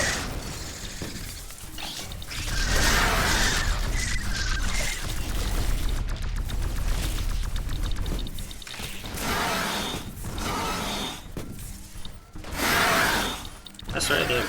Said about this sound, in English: the grenade launcher is just my favorite weapon